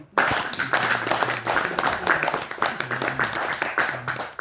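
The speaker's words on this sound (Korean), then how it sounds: "우리 박수 한번 보내드립시다." An audience claps together at a talk, a fairly loud, steady run of hand claps that starts abruptly and continues throughout.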